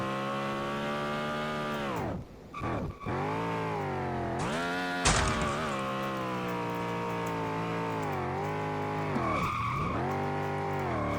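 Race car engines drone loudly and continuously in the final race of a Street Legal Racing: Redline championship, pitch climbing and falling through gear changes, with tire squeal and brief drops in the roar.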